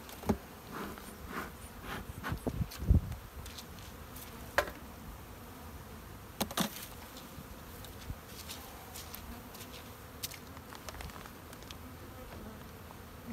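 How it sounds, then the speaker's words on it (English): Honey bees buzz around an open beehive in spring, a continuous soft drone with scattered louder passes of individual bees close by, plus occasional handling knocks. "Lots of bees, will just move them off so that they're not getting squished by the pollen patty."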